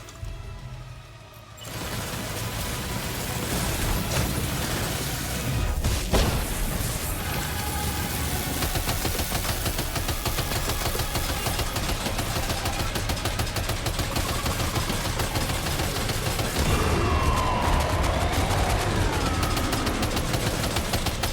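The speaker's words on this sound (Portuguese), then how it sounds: "Atirando agora." Gunfire in the video game Death Stranding 2, a dense, sustained rattle of shots running nearly the whole clip at steady loudness, layered over continuous game ambience and mechanical clatter, with no talking.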